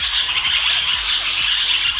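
Cobalt lineolated parakeets squawking nearby, a loud continuous chorus of shrill, grating calls with repeated squawks overlapping at close range.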